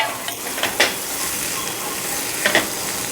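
Chickpeas go into a pan for chana chaat and are stirred, giving a steady light sizzle with two brief scraping clatters of the spoon against the pan, close and alone without talk.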